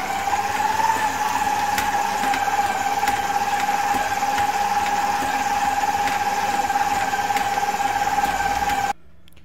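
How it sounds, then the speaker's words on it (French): A stand mixer kneads pizza dough at speed 2 with a steady, even motor whine and faint rhythmic knocking, running continuously and close before stopping abruptly. "Je pétris à vitesse 2 pendant 4 minutes."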